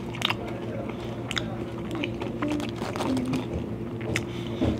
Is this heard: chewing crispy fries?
yes